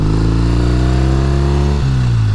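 A 1969 Triumph T120R motorcycle engine runs loud and close, holding a steady throbbing rev before the pitch drops briefly and settles back into a firm, even drone.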